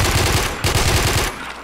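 Rapid automatic fire from an AUG assault rifle in the Warmode shooter game, two close, loud bursts of gunfire separated by a brief gap, ending in a short lull.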